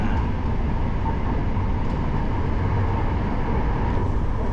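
An LRT-1 train on the Cavite extension line passes close by, a steady loud rumble of wheels and rolling stock that holds without a break, with no talk.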